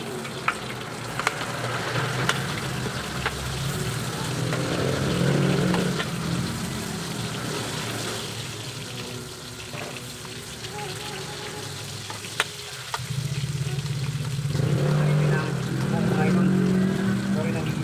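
Squash and chili sauté in a pan with a steady, low sizzle and frying crackle that swells and fades through the clip.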